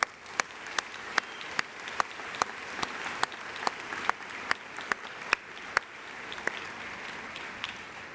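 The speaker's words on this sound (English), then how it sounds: "Let's just take a moment and for some applause for all of those individuals here today." Audience at a medical school white coat ceremony applauding, a thin, steady patter of clapping with sharp louder claps scattered through, moderately distant and without talk.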